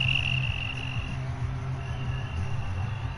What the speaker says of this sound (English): Dang it, crickets.